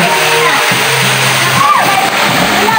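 Splashing from people night swimming at a beach resort in Panglao, Bohol, with broadband water sloshing throughout, near and steady, while voices talk over it.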